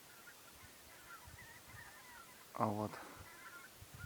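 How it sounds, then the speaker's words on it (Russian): A single brief honk from migrating geese in autumn rings out mid-clip over a faint, noisy night background, and someone says a couple of words just before it. "столько гуся идет вообще. Гусь пошел на юга."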